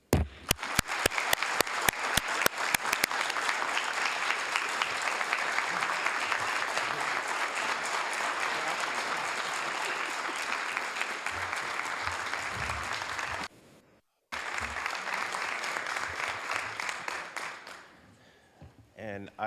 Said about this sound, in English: all of us should give him a good round of applause for those achievements